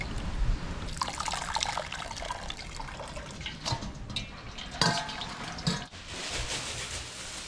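Water trickles and splashes as mustard greens are blanched in hot water for Hmong-style pickled greens, a steady close wet churn with a few louder sloshes and no speech.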